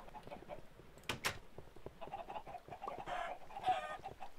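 Chickens in a Minecraft chicken farm cluck and squawk in a quiet game scene, several short calls scattered across the clip, a couple of sharper squawks standing out near the start.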